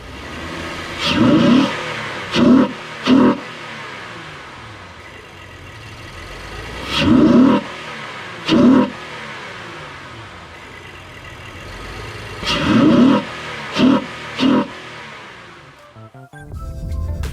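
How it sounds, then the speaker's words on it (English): A Honda Ridgeline engine with an aftermarket AEM intake idles, then revs sharply three times in a row, the bursts repeating in three clusters with a steady drone in between. "let's go ahead and hear how the AEM intake sounds"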